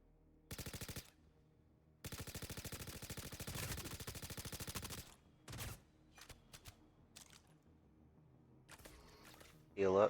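Video game gunfire: long bursts of rapid automatic fire, then scattered single shots and short volleys, moderately loud with quiet gaps between them.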